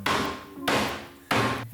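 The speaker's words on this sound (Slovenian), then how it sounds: "Šnicl ponovadi stolčemo s kladivom, ampak ker smo s potrebščinami omejeni, ga bom danes vsej približno probala stolč s kozarcem." A drinking glass pounds a raw schnitzel three times at an even pace. Each blow is a close, heavy thud with a short ringing decay.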